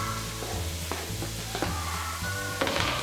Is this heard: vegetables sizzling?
yes